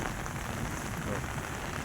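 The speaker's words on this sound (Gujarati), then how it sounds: "જોરદાર વરસાદ એમ" Heavy first rain of the season pours down steadily, a dense, even hiss of drops on surfaces filling the whole span at constant loudness, with no voices.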